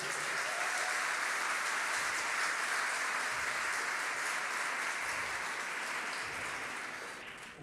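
Applause from a conference audience at a church gathering, a dense, steady wash of clapping sustained for several seconds before tapering off at the end.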